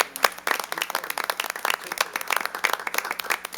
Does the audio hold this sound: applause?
yes